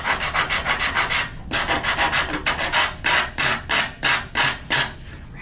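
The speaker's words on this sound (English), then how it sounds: "I have a pretty good grit sandpaper in this right now. So it takes off the wood pretty easily." Grit sandpaper rubs back and forth across wood in quick, even strokes, a loud close-up rasping rhythm that pauses once, then resumes with slower, heavier passes.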